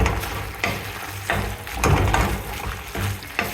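Basil leaves and tomato stirred in a pan over a low flame, a steady sizzle with repeated scraping strokes of the spoon every second or so, close and fairly loud with no talking.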